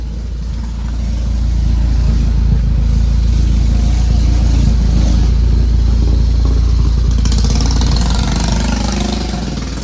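A tricycle motorcycle engine idles steadily after carburetor tuning, running smooth and even without backfires, close and loud with a constant low rumble and light mechanical clatter throughout.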